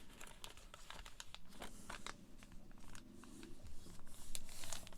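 Sheet of paper being folded by hand into an origami letter, close crinkling, rustling and sharp creasing snaps in irregular bursts, quiet overall, with no talking.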